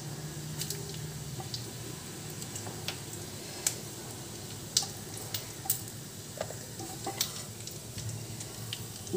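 Bay leaves, fennel seeds and cumin sizzling in hot oil for a Bengali kochu data shaag dish, a steady close crackle dotted with sharp popping ticks throughout.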